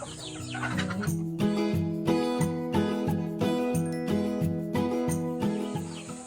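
Chickens cluck and chatter in a dense, rhythmic chorus, fairly close, with a faint tinkling layer and no speech.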